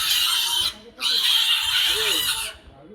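Pigs squeal and grunt loudly and close by while being caught by pig catchers, shrill cries in two long bursts with a short break between them, mixed with voices.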